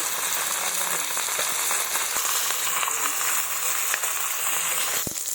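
Oil sizzles and crackles steadily in a pan as a fish head fries, a constant bright hiss with occasional pops.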